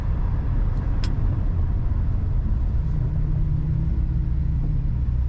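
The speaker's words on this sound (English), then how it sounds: "Very nice ride in this truck." An older truck with an automatic column shift cruises down the road, heard from inside the cab as a constant low engine and road rumble with one brief click.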